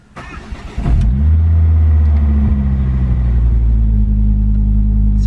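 Turbocharged car engine cranks briefly, catches and settles into a loud, steady, rumbling idle after repair, heard up close with no talking.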